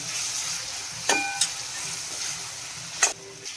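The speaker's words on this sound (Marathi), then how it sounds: "1 चमचा लाल तिखट, 1 चमचा गरम मसाला, 1 चमचा लाल तिखट. चांगला मिक्स करून घेऊया." Prawns with red chilli powder, garam masala and spring onion are stirred in a hot pan for a Goan dish. A steady low sizzle runs throughout, with two or three sharp spoon scrapes against the pan.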